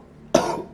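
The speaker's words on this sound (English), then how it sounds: "Yu Damduk coughed weakly as he tried to get up." A man gives a single weak, short cough, close and brief, after a moment of quiet.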